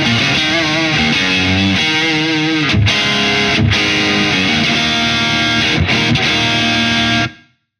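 Single-coil electric guitar pushed through a Carl Martin Panama overdrive pedal plays loud, gritty driven chords and notes with brief pauses between phrases, then rings out and cuts to silence.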